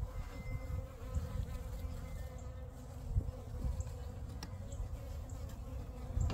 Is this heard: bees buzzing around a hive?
yes